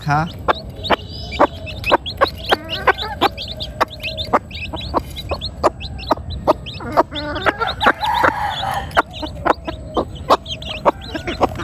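Chickens at a farm cluck repeatedly and close by, short sharp calls tumbling over one another in a busy, uneven rhythm, with faint voices underneath.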